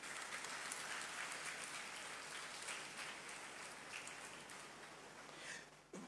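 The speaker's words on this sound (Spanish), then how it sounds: "Dar un aplauso al Señor." Church congregation applauding, a dense steady wash of many hands clapping that fades slightly toward the end, heard from some distance and fairly quiet.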